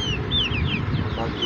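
Hens cluck and small chicks peep in a short, close burst of farmyard sound, with high chirps scattered over lower clucking.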